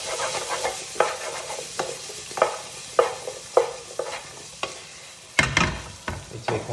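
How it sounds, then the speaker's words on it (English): Potatoes and baby corn sizzling in a frying pan for a vegetable stir-fry, stirred with regular scraping strokes about every half second over a constant fry hiss, with a louder clatter toward the end. "Stir that through."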